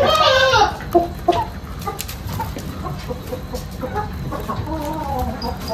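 Chickens cluck and chatter in repeated short, close calls at a poultry vaccination day, with one louder squawk at the start and a steady murmur of fowl throughout.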